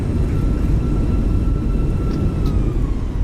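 Simulated Fenix A320 airliner in Microsoft Flight Simulator during landing rollout and braking, a steady loud roar of engines and runway rumble with a faint whine sliding slowly down in pitch, no voices.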